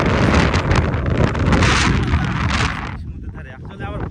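Strong wind roars loudly across a stormy seashore in Japan, a continuous broadband buffeting that drops off sharply near the end, leaving quieter gusts and faint rustling.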